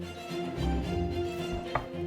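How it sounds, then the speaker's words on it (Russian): A knife cuts into a large pumpkin, slicing it nearly in half, with steady close crunching and scraping through the dense flesh and a sharp crack near the end; no one speaks. "Я разрезаю тыкву едва ли не пополам."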